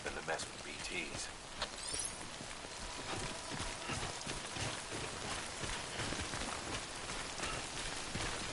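Steady rain pours down across a Death Stranding game scene, a continuous hiss dense with drops, with heavy hoof-like thuds and clatters mixed in and a voice faintly audible under the downpour.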